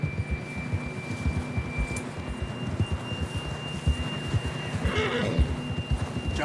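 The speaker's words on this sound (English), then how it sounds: "John was riding that horse when we left Blackwater." A horse neighs in the video game Red Dead Redemption 2 over a busy rumbling background of hoofbeats and movement, with a shrill whinny rising near the end.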